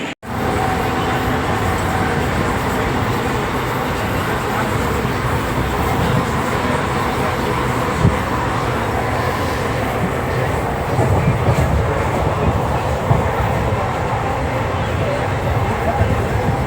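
A crowded passenger train near Gadag runs along steadily, with a continuous rumble and rattle of the carriage and soft rhythmic clatter from the wheels. The sound stays close and even throughout, with a few brief knocks.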